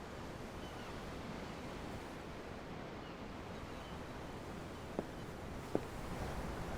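Steady ocean waves washing beneath the deck of a massive ship in Tales of Arise, a soft continuous surf hiss with a couple of faint clicks near the end.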